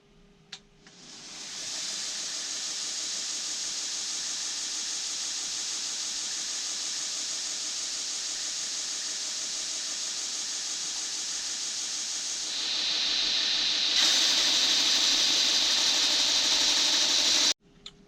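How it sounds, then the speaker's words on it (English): A belt grinder running a coarse 36 grit belt against a knife blade to cut the bevel, a loud steady whine and hiss that holds for many seconds, rises in pitch and intensity near the end, then cuts off abruptly. "It's going to get loud now, and we're going to start up the grinder."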